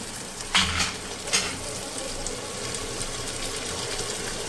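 Tomato puree is stirred into frying spices for a Punjabi aloo badi curry, giving a steady sizzle with a couple of louder scraping stirs early on and no talk.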